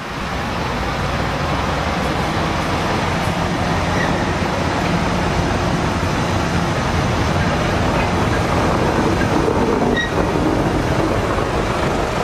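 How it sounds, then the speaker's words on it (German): The RK1 museum railway locomotive with its 22-litre engine runs with a loud, steady, rattling diesel rumble. The sound holds constant throughout with no pauses. "einem Hubraum von immerhin 22 Litern, erzeugt die Maschine ein beachtliches Betriebsgeräusch"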